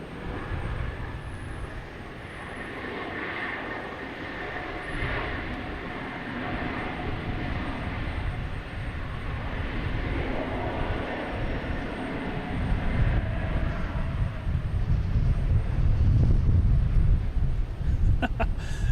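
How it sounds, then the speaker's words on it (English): An Airbus A220 airliner on approach to land at Boston Logan gives a faint, distant roar that swells slowly over about nineteen seconds amid outdoor ambience. "A220 coming in from Charleston"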